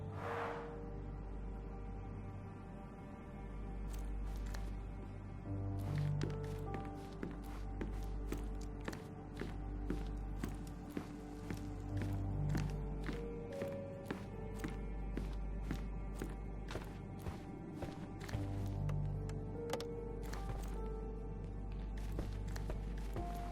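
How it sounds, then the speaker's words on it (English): Footsteps overhead in the Sherlock Holmes Chapter One video game: a steady series of soft thuds and taps over a continuous musical drone, moderately loud and persisting throughout. "I heard footsteps upstairs a second ago."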